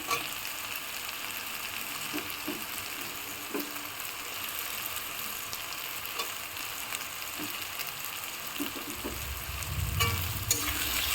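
Large-cut onions hiss and sizzle steadily in a hot pan for home-style tadka, with occasional stirring scrapes and a slightly louder burst near the end.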